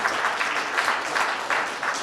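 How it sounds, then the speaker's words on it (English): Staff at a company get-together clap for the team, a brief, fairly close burst of many hands clapping with no voices over it. "big round of applause for everyone"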